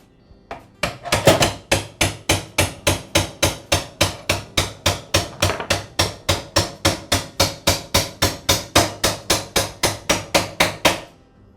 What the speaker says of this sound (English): I'll continue to tap the pin through the saw.